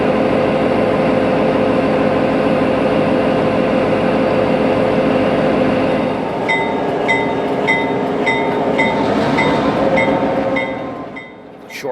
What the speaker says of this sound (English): The short train of gondolas will be left in the small siding here at Dixmoor to be spotted later